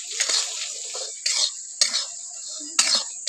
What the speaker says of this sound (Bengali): এই চালটা কিন্তু বন্ধুরা একইভাবে কন্টিনিউ নেড়ে যেতে হবে এইভাবে